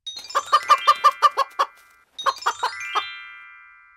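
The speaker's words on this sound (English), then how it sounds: "It's a chicken." Cartoon chicken clucking: two quick bursts of bright, evenly spaced clucks, the second group trailing off into a ringing tail, with no talk.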